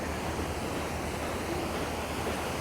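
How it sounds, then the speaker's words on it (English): Water rushes steadily through a spillway beside a creek on the snowy Rubicon Trail in April, a dense, continuous roar that stays loud and even throughout, with no voices. "Look at this water"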